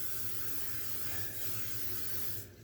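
Cooking spray hisses steadily from a can onto a muffin pan for mini chocolate chip muffins in a home kitchen, one continuous close spray that cuts off just before the end.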